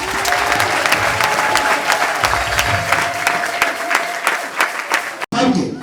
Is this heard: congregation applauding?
yes